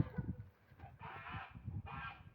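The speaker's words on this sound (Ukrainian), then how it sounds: "Гусаки, дві гуски." Two geese honk nearby in two drawn-out nasal calls, one after another, with soft lower grunting noises underneath, near a pond.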